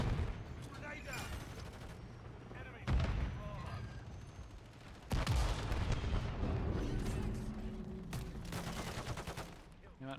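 Gunfire and explosive bursts in the video game Lethal Company, with sharp loud booms cutting into a busy, continuous battle din.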